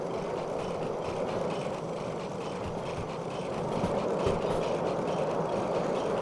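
Two steam locomotives running together on a railway, a steady rumbling roll with rhythmic clatter that grows slightly louder partway through, with no voices.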